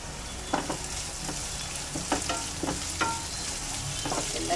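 Oil sizzles steadily in a pan as a tempering of curry leaves and coriander with onions fries, with scattered scrapes of a spoon stirring through the constant crackle.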